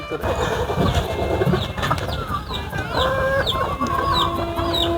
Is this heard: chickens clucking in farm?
yes